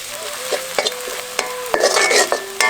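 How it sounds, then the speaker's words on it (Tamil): Ground pirandai paste sautéed in oil with spices for a pickle: close, loud frying sizzle broken by repeated knocks and scrapes of a spoon stirring in the pan, with a busier burst of crackling partway through. "அரைச்சு வச்சிருந்த பிரண்டையை சேர்த்து இன்னொரு முறை நல்லா வதக்கிடுவோம்"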